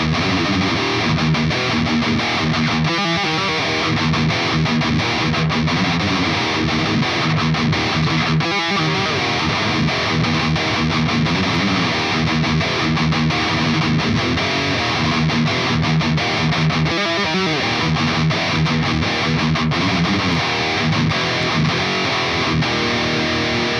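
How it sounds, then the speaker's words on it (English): A carbon fiber Enya electric guitar plays a distorted tone with effects straight into an audio interface, giving a continuous, loud, sustained riff with chord changes and no talking. "So let's plug it in, and I have it set up kind of how I would usually like my guitar tone to be."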